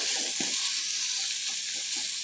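Carrot, beans and other vegetables sautéing briefly over a full flame in a pan for egg noodles, a steady bright sizzle throughout with a few soft stirring scrapes underneath.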